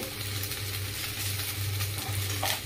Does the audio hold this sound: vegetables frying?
yes